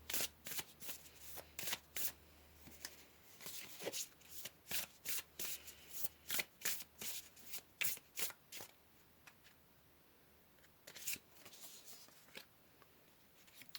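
Tarot cards are shuffled by hand in quick riffling bursts, close and fairly quiet. Many short flicks come in an uneven rhythm with brief gaps between them.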